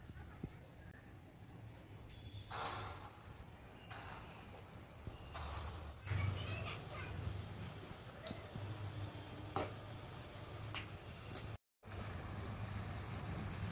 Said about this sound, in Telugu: ఇప్పుడు ఈ ఉండను పిండితో కోట్ చేసుకుని ఆయిల్లో వేసుకోవాలి